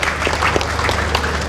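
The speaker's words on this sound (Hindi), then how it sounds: "हाथ ऊपर करके जोरदार तालियों से आप अभिनंदन में शामिल हों।" A crowd at an outdoor Delhi ceremony flagging off new electric buses breaks into loud, sustained applause, with dense, steady clapping filling the whole stretch.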